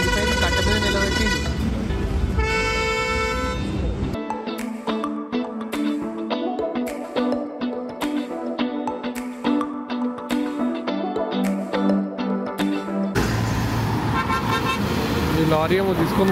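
Road traffic on a highway embankment in India beside a stopped lorry, with repeated loud vehicle horns honking over a constant engine and road rumble, plus close rattling and clatter in between.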